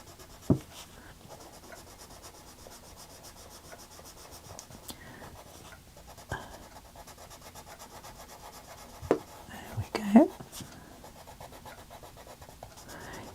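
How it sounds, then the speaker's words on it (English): A colored pencil from an H & B 72-pencil set scratches over paper in steady, faint rubbing strokes, broken by a few sharp taps and clicks near the end. Nobody speaks. "I'm just going to try out every pencil."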